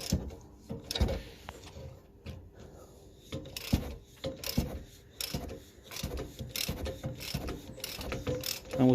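A half-inch-drive ratchet with a 13 mm socket on an extension turns a bolt during rear brake work on a 2017 Nissan X-Trail, giving repeated clicking strokes in a steady rhythm, close and fairly loud.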